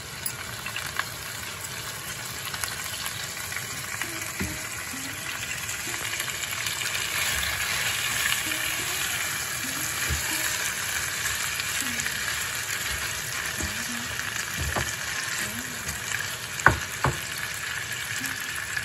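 Asafoetida frying in hot oil with grated ginger over a raised flame for a pea and paneer curry, a dense continuous sizzle and crackle with occasional light taps and clinks of utensils.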